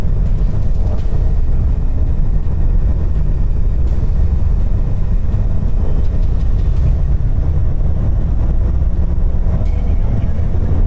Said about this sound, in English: Wait for all engines to engage.